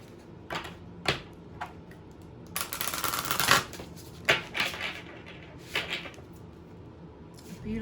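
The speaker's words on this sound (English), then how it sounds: "Next, I'm going to be using the Awakened Soul deck." Cards of an Awakened Soul tarot deck being shuffled in short, crisp riffling bursts, with a longer steady shuffle in the middle and quieter taps between.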